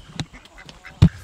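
A bird from a backyard chicken coop gives two short, squeaky calls like a baby duck, a faint peep near the start and a louder one about a second later, with quiet background in between.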